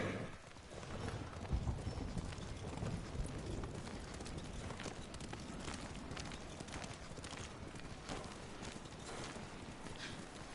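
A horse gallops in the game Ghost of Tsushima, rapid rhythmic hoof clip-clops beating steadily over a dense, soft outdoor wash, fairly quiet throughout, with no talking.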